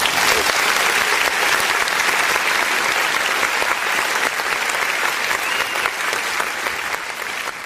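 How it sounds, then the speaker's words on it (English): Sustained audience applause fills the space, thick and loud with steady clapping from many hands, tapering slightly toward the end. "So I'd like to applaud this."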